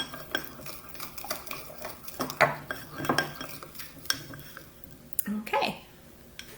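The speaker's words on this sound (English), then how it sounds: "I'm going to stir just a little bit more to break up any lumps of cornstarch that might be lurking" A spoon scraping and clinking against a bowl while stirring a thin, soupy slime of cornstarch and vegetable oil, irregular close-up taps and wet squishing strokes, with a voice speaking faintly in the background.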